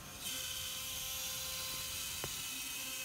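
A CNC router carves a circle through plywood at 80 inches per minute, a steady whirring and grinding drone holding constant for the whole stretch, with one brief click near the end.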